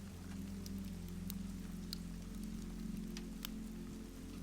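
Steady rain patters on wooden shutters of a winter castle, a soft continuous hiss with occasional sharper drop ticks over a low, even hum.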